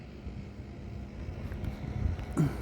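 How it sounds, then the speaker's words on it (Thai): Strong, unsteady wind gusts across an outdoor fishing spot, producing a low, rumbling buffet against the microphone that swells and eases, fairly faint overall with a slight surge near the end. "ลมก็ค่อนข้างแรงครับลมไม่นิ่งครับ"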